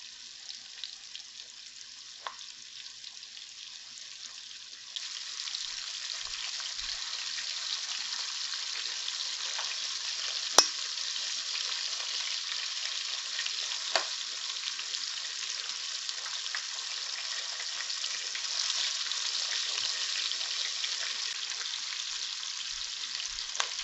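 Chicken cutlets fry and brown in a pan with a steady, bright sizzle that grows louder partway through, broken by occasional faint clinks, with no talk.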